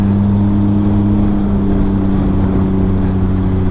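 A Can-Am Ryker with a Treal Performance Stage 2 clutch accelerates at around 30 mph, its engine droning loud and steady with a rising pitch as the throttle rolls on.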